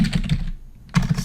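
Code is typed on a computer keyboard in quick bursts of close, crisp key clicks. A short pause sits in the middle before the tapping resumes, and no one speaks.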